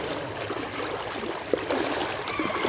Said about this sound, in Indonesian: di depan itu sungai dan arusnya cukup kencang